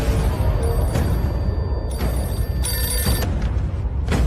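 A telephone bell rings in repeated bursts over a busy, rumbling background, with no talking, in the film KGF Chapter 2.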